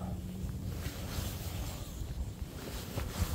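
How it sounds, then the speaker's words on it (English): A strong gust of wind sweeps across open fields beside a river, a steady, loud broadband rush with low rumbling buffeting that swells and holds throughout, with no talking. "Oh, here comes a big gust."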